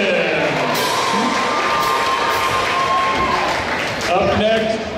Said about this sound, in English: One more time, big round of applause for Jara Johnson.